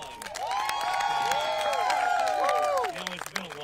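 A crowd at a send-off party whoops and cheers with high sliding voices over dense clapping, loud and sustained before tapering off near the end.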